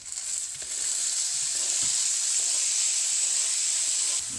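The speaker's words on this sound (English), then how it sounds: "now let's saute our butter, onions, and garlic until the onions are golden brown" Onions and tomatoes sautéing in butter give a steady, close hiss that runs unbroken throughout, with a few soft low knocks, probably from stirring, and no voices.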